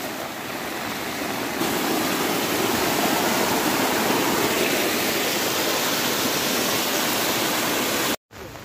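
Steady rushing water of a stream flowing from fields toward a river, loud and close, with no voices, cutting off briefly near the end.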